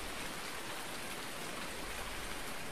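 Steady rainfall in the farming video game Farming Simulator 19, a dense, even hiss of raindrops falling on the ground, continuous and unbroken for a few seconds with no voices.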